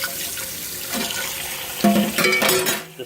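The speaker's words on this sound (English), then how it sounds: "I'm just gonna put the water in there, a whole bunch of hot water." Hot water gushes from a kitchen tap into a cast iron pot in the sink, a steady splashing flow that rises and sputters louder toward the end, close and alone.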